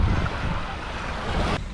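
Ocean waves at Cottesloe Beach on the Indian Ocean, a steady wash of surf mixed with wind buffeting the microphone, loud and continuous without voices.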